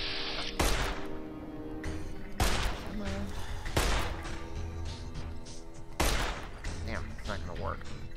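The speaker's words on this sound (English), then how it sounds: "Man, I'm trying to shoot at your legs here, you son of a bitch." Gunfire in the game Fallout: New Vegas, fought against Powder Gangers: four sharp, loud shots spaced about one to two seconds apart, each with a crashing tail, over steady game ambience and background music.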